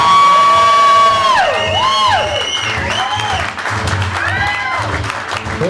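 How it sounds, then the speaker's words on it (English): Loud applause and whooping whistles from a club audience greeting a blues musician on stage with his band: dense close clapping that runs the whole stretch, with rising and falling whistles and shouts over it. "give him a nice round of applause"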